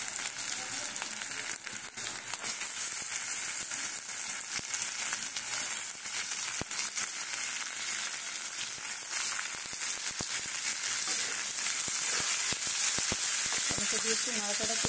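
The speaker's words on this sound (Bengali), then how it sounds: "সুন্দর ভাজা হয়ে গেছে। এইবারে দেবো টমেটো।" Potato pieces fry in hot oil as tomatoes are added, producing a loud, continuous sizzle close by, with scattered crackles and spatula clicks throughout.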